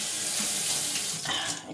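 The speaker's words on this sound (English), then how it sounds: "I'm gonna run this on the cold water." Cold water running from a kitchen tap, a loud, close, continuous rushing splash into the sink that shifts slightly in tone near the end.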